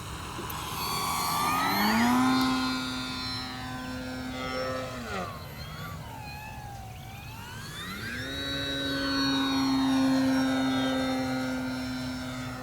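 An FMS 1700mm PA-18 Super Cub RC model airplane drones overhead, its pitch sweeping up and down as it passes and returns, loud and steady with no voices.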